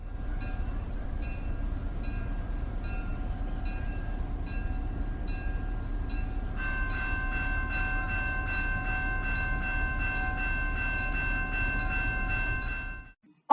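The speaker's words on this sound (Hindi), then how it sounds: "ट्रेन आ गई।" A train arrives with a steady rumbling roll of wheels on track and a sustained horn tone that swells louder midway, continuing until an abrupt stop.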